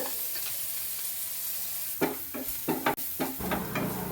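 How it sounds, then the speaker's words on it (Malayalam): Onions, chilies and curry leaves sautéing in a pan, a steady sizzle with a series of sharp stirring scrapes and clatters in the second half, close and moderately loud. "ഉള്ളിയും മുളകും കറിവേപ്പിലയും മുപ്പിക്കുകയാണ്"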